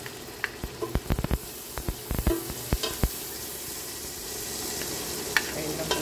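Onion sizzling in an oily pan for a creamy Christmas spaghetti, with a steady close hiss and repeated sharp clatters of stirring against the pan in the first half.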